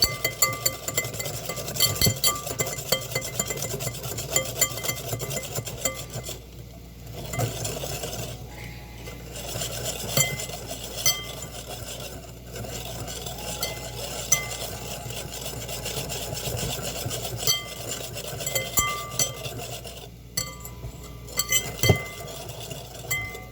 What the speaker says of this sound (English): we'll stir the eggs and just keep on stirring up the egg mixture